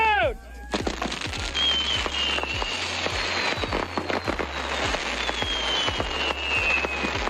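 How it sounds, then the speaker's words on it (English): Homemade fireworks and bombs going off outdoors in a rapid, irregular string of sharp bangs and crackles, with whistling rockets streaking overhead and loud blasts continuing throughout. "blast off a bunch of homemade fireworks and bombs"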